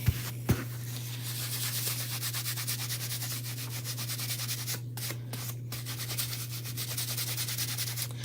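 Wax is rubbed onto a chalk stencil transfer: a soft, continuous scrubbing of quick back-and-forth strokes over a steady low hum, with a couple of light taps at the start.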